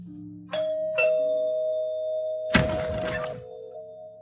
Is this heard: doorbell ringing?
yes